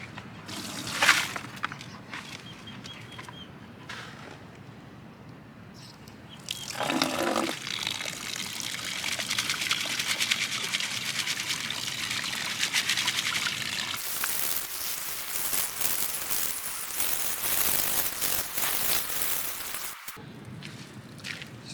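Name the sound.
sieving a bucket of muck with water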